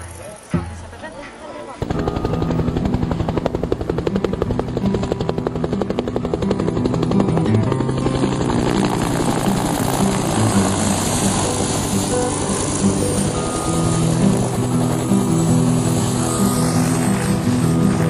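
A helicopter carries skydivers before a jump, its loud steady rotor and engine roar filling the cabin continuously after a quieter opening, with voices faintly underneath.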